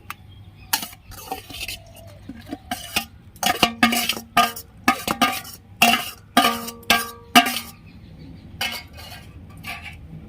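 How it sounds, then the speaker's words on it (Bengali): A utensil clinks and scrapes against a pan as grated carrots are added to thickened, boiled milk for carrot halwa, with a series of sharp metallic taps at an uneven rhythm, close and clear. "দুধ তো আমার ঘন করে জাল দেওয়া হয়ে গেছে দেখুন ঘষে রাখা গাজরগুলো এবার আমি সব দিয়ে দিচ্ছি"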